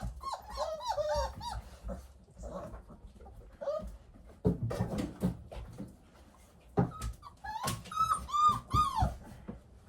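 Puppies whimpering and whining in high, wavering squeals, with a few short growls and scuffles between bursts, close by and fairly loud against a quiet indoor background.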